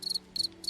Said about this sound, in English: so I like crickets